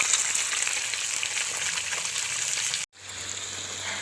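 Fish curry cooking in a pan, a close steady sizzle and bubble that cuts out abruptly, then resumes slightly quieter with a low hum underneath.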